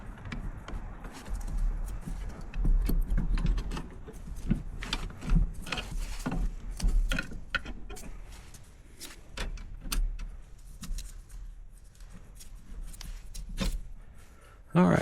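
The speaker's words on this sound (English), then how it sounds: "we are going to pry the caliper off" Metallic clunks, scrapes and knocks come in bursts as a brake caliper is pried off the rotor on a vehicle, with a voice talking over the work.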